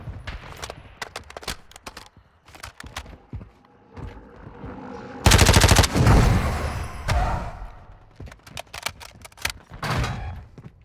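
Gunfire in a Call of Duty Resurgence match, with scattered shots and bursts in the distance and one loud, dense volley of rapid fire midway through.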